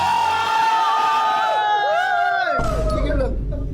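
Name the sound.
audience shouting and cheering on request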